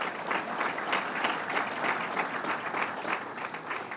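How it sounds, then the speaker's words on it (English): Audience at a governor's State Fair task force announcement giving steady, moderately loud applause, a continuous patter of many hands clapping throughout. "Let's give them a round of applause."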